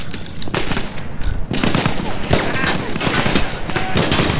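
Rapid bursts of gunfire and explosions crackle through a World War I battle in the video game Battlefield 1, loud and dense with irregular shots, while players talk over the action.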